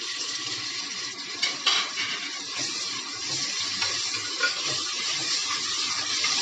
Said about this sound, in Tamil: 2 பெரிய தக்காளி போடுறேன்